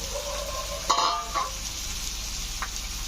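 Green chillies frying in a pan over a steady sizzle, with a few brief stirring clatters and scrapes partway through.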